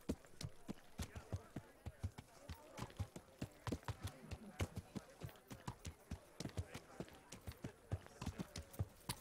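Horse hooves trot through Kingdom Come: Deliverance in a steady, close, clip-clopping rhythm that keeps going without a break.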